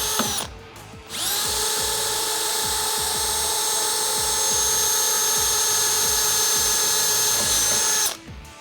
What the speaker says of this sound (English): After the center punch are punched, we can drill our pilot hole.